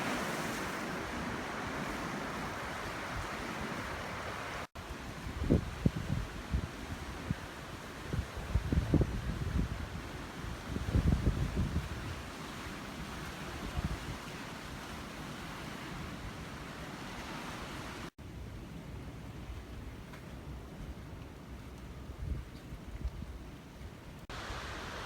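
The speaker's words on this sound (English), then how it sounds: "Beautiful Pacific Ocean" Pacific Ocean surf rolling onto the shore of Hawaii's Big Island, a continuous broad wash with wind buffeting the microphone and a few louder breaking waves in the middle.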